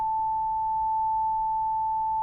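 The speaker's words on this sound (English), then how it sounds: "I make a patch, which is a really simple sine wave" A simple computer-synthesised sine wave patch sounds a steady, pure tone at a single pitch, held unbroken and moderately loud over a faint low background hum.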